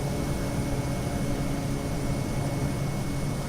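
A steady, even aircraft engine drone from a flight simulator game runs continuously at moderate level, with a faint high whine above it and no talk.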